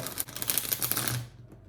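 A quick riffle of tarot cards being shuffled up close, a dense flurry of crisp flicking lasting about a second before stopping.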